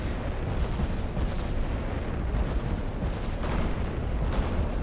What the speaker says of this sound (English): He just has a full broadside here so we can see the blast of those main guns